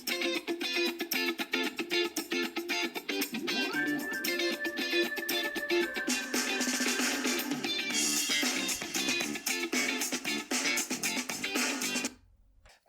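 Music plays through the up-firing and down-firing speakers of an Alienware X16 laptop at 50% volume, a steady rhythmic track that fills the clip and cuts off at the end, with no talk.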